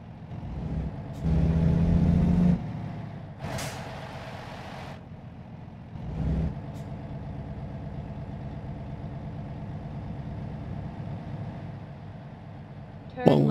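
A truck engine hums steadily with road noise, punctuated by a few sharp hissing bursts of air brakes; no voices. Modded American Truck Simulator video game audio.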